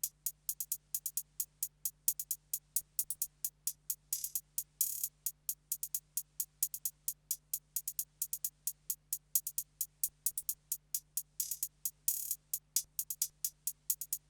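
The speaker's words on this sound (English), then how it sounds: "And then obviously the second hi-hat that just pans a different way." A second hi-hat in a trap beat built in FL Studio ticks steadily with fast rolls and accents, alone and fairly quiet over a faint low hum.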